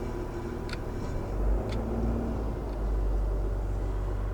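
A roll-off dumpster truck drives across a yard with its PTO engaged, giving a steady low engine rumble with faint clanks, while the jib and hook run back.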